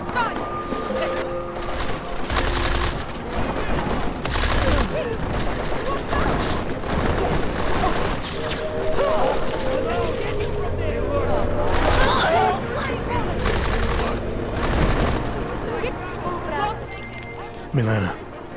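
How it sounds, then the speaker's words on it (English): Gunfire rattles through a firefight in the video game Deus Ex: Mankind Divided, with loud bursts and scattered shots mixed with mechanical clatter while voices talk over the action. "That was a gun!"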